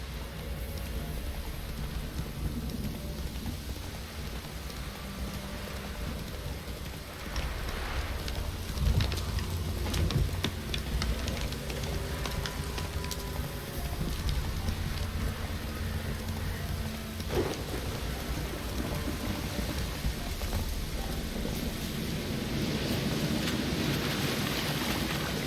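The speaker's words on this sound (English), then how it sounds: "Proper downpour, this is." Heavy rain pours down steadily in The Witcher 3 while thunder rumbles, with one deep roll swelling midway. The downpour stays loud and continuous throughout, and no one speaks.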